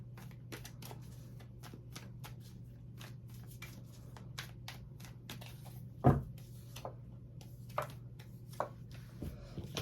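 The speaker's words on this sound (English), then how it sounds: "We pull some cards for Aquarius." Tarot cards are shuffled and pulled by hand, giving a string of soft, irregular snaps and flicks over a steady low hum, with one sharper knock partway through and no talking.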